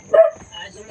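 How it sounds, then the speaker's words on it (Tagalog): A house dog gives a single short bark near the start, followed by faint whimpering, with people talking throughout. "Yan ang aso eh."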